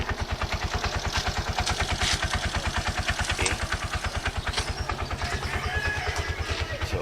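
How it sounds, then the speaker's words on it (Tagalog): A vehicle engine idles steadily while warming up before a driver's first trip after New Year, a close, even mechanical chug with rapid rhythmic pulses throughout and a brief spoken word. "So, pinapainit ko pa lang po yung makina natin."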